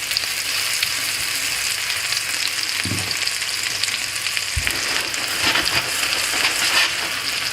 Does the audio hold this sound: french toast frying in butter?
yes